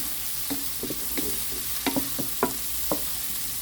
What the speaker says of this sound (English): So I will just saute this maybe good for 2 minutes.